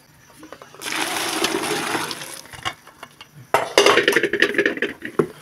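Boiling water is poured into a blueberry ice cream mixture: a steady, close, splashing pour for about two seconds, then clinking and clattering of the container and utensils, with no talking.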